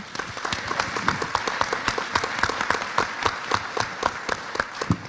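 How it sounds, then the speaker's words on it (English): A room of attendees at a sit-in anniversary celebration gives students a round of applause, with steady clapping and a few sharper nearby claps standing out. No one speaks. "So I think we should give them a round of applause right now."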